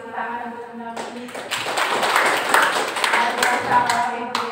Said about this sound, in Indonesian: Terima kasih tepuk tangan untuk Bunda Mumi.